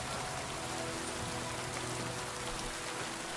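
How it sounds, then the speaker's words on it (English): Steady, dense rain falls in the medieval game Kingdom Come: Deliverance II, a constant close hiss of drops on surfaces with no pauses and no voices. "The rain sounds are great."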